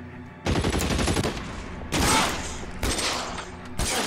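Gunfire in the video game L.A. Noire: bursts of rapid shots in several loud waves, each trailing off with echo, close and dense.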